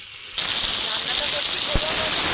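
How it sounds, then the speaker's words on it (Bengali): Marinated chicken pieces and spices hit hot oil for a homestyle chicken biryani, bursting into a loud, steady sizzling hiss that runs continuously to the end, with a brief clatter partway through. "এবার আমি ম্যারিনেট করা চিকেন আর তার সঙ্গে সঙ্গে যে মশলাগুলো রয়েছে সেগুলো দিয়ে দেবো"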